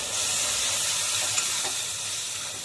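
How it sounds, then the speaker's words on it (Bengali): Spice paste sizzles steadily in hot oil, a continuous bright hiss with faint stirring and no voices. "মশলাটা ভালো করে কষাই নিলাম।"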